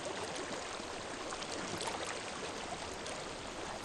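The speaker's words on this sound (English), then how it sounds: "I hear water." Flowing water in the video game Hellblade: Senua's Sacrifice, a steady broadband rush like a nearby stream running without pause for the whole stretch, no voices over it.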